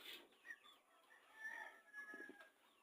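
Chickens on a poultry farm cluck and cackle softly in a few short, rising calls over a quiet background, fairly faint and near, with no voices.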